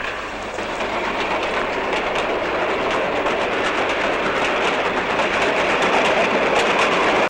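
A toy train set runs steadily in a film scene, giving a continuous, loud rolling rumble with rapid rhythmic clatter throughout and no clear whistle standing out.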